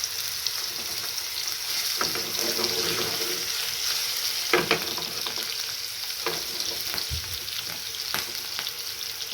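Chopped potatoes sauté in a hot pan for egg curry, giving a steady, fairly loud sizzle with intermittent stirring scrapes and a few soft knocks against the pan.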